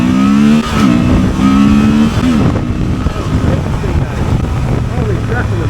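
A Honda Transalp 750 motorcycle engine accelerating on a test ride, a rising, revving drone with a falling pitch, mixed with heavy wind rush and some voice.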